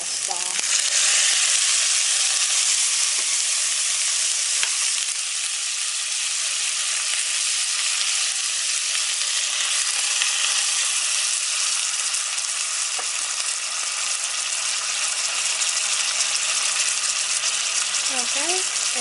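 Onions and shallots frying in a pan as sauce goes in for Haitian-style chicken, a loud continuous sizzle throughout with faint occasional clinks and a voice in the background near the end.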